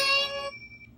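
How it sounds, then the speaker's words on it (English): A single bright, bell-like ring from a children's show clue, struck once. It rings clearly, fades within about half a second, and leaves one thin, high tone hanging faintly before it dies away. "There is a clue on this Ringing sound."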